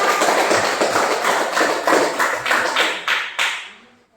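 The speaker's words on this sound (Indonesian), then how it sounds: "sekali lagi berikan aplaus untuk kelompok 1" A classroom audience claps for a student group, a close burst of hand applause that holds briefly, then thins to a few final claps and fades out.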